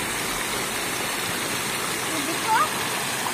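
Water from a fountain in Janeshwar Mishra Park, Lucknow, splashes in a steady, dense rushing wash throughout, with a brief faint voice partway through.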